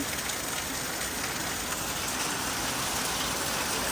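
Heavy rain pours down without letup, a dense, loud, constant hiss and patter of water on surfaces, close and unbroken, with no voices.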